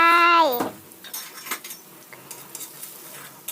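A utensil stirs ingredients in a metal cooking pot, giving a sharp ringing clang first and then a string of light, close scrapes and clinks.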